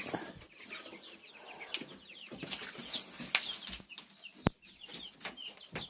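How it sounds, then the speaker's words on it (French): Newly hatched Brahma chicks peeping, many high thin chirps overlapping in a busy, continuous chorus nearby, with occasional soft clucks and light knocks among them. "Et là on a les derniers poussins Brahma qui sont nés"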